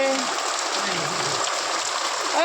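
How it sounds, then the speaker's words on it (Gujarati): Heavy rain pours steadily onto a surface outside a home, a dense, constant hiss of falling water throughout, with a brief tonal sound near the end. "બહુ વરસાદ આવે છે"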